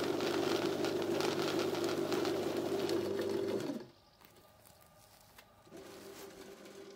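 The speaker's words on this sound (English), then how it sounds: "If the motor is switched to reverse direction, the spiral comes out again." A VEVOR 250W pipe cleaning machine motor runs in reverse as its spiral comes back out, a steady mechanical whir that cuts off sharply partway, leaving quiet hum before a softer restart.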